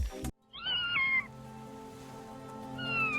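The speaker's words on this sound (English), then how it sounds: "A kitty, the girl exclaimed." A kitten gives a high, wavering meow up close, followed by a second, fainter meow, over a soft musical background.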